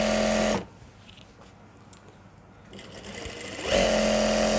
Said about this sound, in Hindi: कोई भी रफ़ कपड़ा लीजिए, उसके ऊपर ये इस तरह से सिलाई लगाइए।